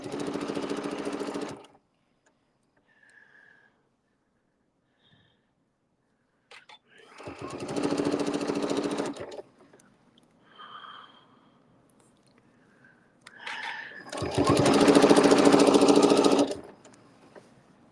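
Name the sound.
sewing machine stitching appliqué fabric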